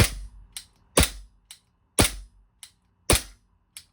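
A Lancer Tactical airsoft pistol firing on green gas, sharp snappy pops at a steady pace, each followed by a faint mechanical click from the slide.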